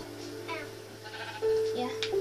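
Sheep bleat in the video game Minecraft, a couple of short, nasal cries rising over steady background hum while a person talks nearby.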